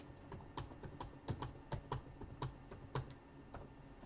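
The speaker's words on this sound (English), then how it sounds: "I'm just typing in 1 through 8." Numbers being typed on a computer keyboard: a string of distinct, quiet key clicks at an uneven pace, some taps sharper than others, with no talking.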